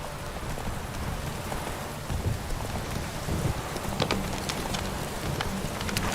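Roach, the horse in The Witcher 3, gallops through rain with a rapid clip-clop of hooves over a steady hiss of falling rain, a distant rumble of thunder, and sharper hoof strikes toward the end; no voices.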